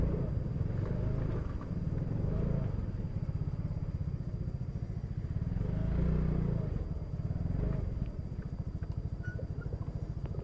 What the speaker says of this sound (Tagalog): Papasok natin yung motor.